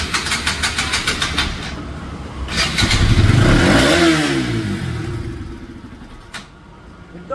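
A Bajaj RS200 motorcycle with a stalling fault putters unevenly, rises into a rev, then sags and falls away as though about to cut out, loud and close.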